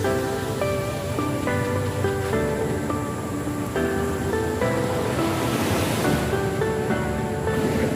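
Ocean surf rushes and washes continuously at a beach under steady tonal music, with a swelling wave near the end.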